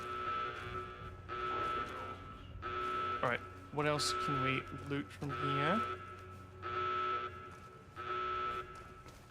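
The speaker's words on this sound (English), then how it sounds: "the alarms have overlapped each other" Overlapping electronic alarms from Fallout New Vegas blare in repeated long buzzing blasts, interrupted midway by a person speaking over them.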